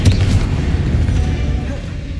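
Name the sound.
Bombarda/Confringo spell explosion in Hogwarts Legacy video game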